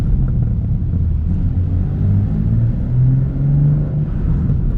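A BMW M2 G87 pulling away in first gear, its deep engine note rising in pitch as it gently accelerates, loud and close from inside the cabin, with no talking.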